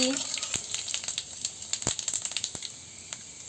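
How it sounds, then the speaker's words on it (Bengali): Dried red chilies and panch phoron crackle and sizzle in hot oil, with a steady run of small sharp pops over a soft hiss, fairly quiet and close. "তেল গরম হয়ে গেছে শুকনো লঙ্কা আর পাঁচফোড়নটা দিয়ে দিচ্ছি"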